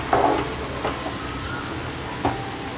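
Jaggery and wheat ada are stirred and roasted together in a pan, giving a soft continuous sizzle with a few brief scraping strokes of a spoon.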